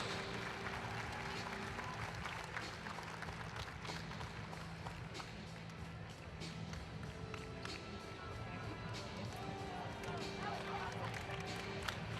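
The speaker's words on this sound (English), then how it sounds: "How about a big round of applause for our friends from Breed's Plumbing" Basketball arena crowd during a home game claps and murmurs under continuous announcer-style talk, steady and fairly distant, with faint court taps and bustle in the background.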